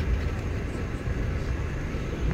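Steady low rumble inside a moving train, a continuous broadband drone of wheels and carriage noise, even in level throughout with no clear talk over it.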